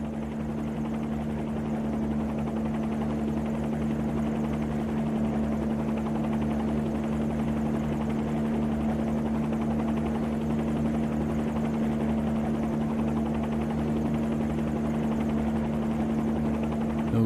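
A Bell 47 helicopter in a flight simulator game gives off a steady, droning rotor and engine hum with a strong, constant low tone that holds evenly throughout.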